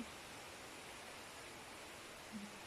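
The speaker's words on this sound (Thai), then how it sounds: "แบบน้ำตกจริง" Steady broadband rush of a waterfall in a forest, constant and even throughout with no breaks, heard from a moderate distance.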